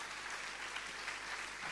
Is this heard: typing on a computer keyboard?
no